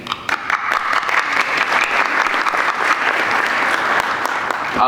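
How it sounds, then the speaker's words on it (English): Audience applause after a panel discussion on youth-inclusive finance and employment, steady, dense clapping from a large crowd that holds for the whole stretch without a break. "Please give another round of applause to Temesgen Fesa for wonderfully moderating"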